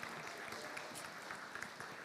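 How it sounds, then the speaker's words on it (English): A hall full of people at a developer conference claps steadily for a lightning-talk speaker, a dense and even wash of many hands sustained throughout with no voices over it. "Your applause for Benjamin."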